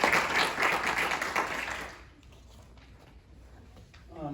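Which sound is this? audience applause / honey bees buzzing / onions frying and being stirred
audience applause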